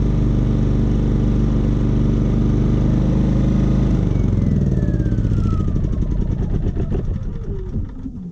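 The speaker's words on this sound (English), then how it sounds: "We started up the engine." A Champion 3400-watt dual fuel generator engine runs loud and steady up close, its pitch shifting and easing slightly toward the end.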